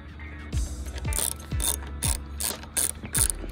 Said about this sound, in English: And then grab my driver with a 3/4-inch head.